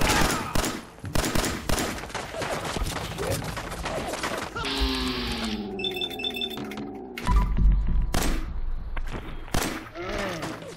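Automated turret in Fallout 4 letting off rapid bursts of gunfire, sharp repeated shots stacked in dense volleys and broken by short gaps, with other in-game effects and tones mixed between the bursts.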